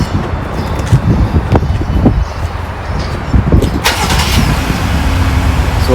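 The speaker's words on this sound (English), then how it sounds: "that's like the full exhaust note that it gives when you start the car" A 2021 Jeep Gladiator Sand Runner pickup starts up by remote start, its engine catching with a burst and settling into a steady, loud idle rumble close by.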